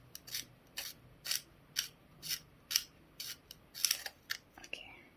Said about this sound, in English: I'm just going to sharpen my pencil.